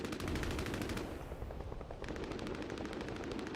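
Silenced SMG firing in a video game, rapid sustained bursts of muffled shots in a fast even rhythm, a brief lull, then another continuous burst.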